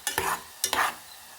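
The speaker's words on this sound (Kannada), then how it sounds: "ನೋಡಿ, ಚೆನ್ನಾಗಿ ಕುದೀತಾ ಇದೆ." Carrot pieces frying in coconut oil for a homemade face oil, two short bursts of bubbling and stirring scrapes close by, separated by a brief quiet gap, with no voices.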